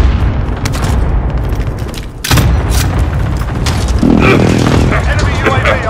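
Warzone game precision airstrike: heavy booming blasts and gunfire-like cracks burst loudly and close over a dense rumbling battlefield background, with a strong hit around the middle and radio-style voice chatter mixed in.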